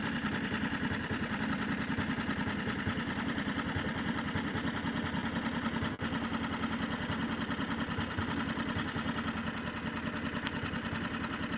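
A Hangkai 6.5 four-stroke outboard motor idles with a rapid, steady, slightly uneven putter that runs close and constant throughout.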